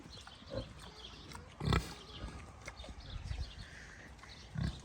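Pigs grunt and snuffle in a muddy new pen on a Wisconsin farm, a few short close grunts with one louder snort-like burst, scattered over quiet background without talk.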